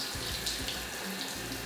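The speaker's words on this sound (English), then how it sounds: "I feel the water run along my scalp" Water runs steadily from a tap while dreadlocks are rinsed under it, a close, continuous gushing splash with soft shifting flow and no talking.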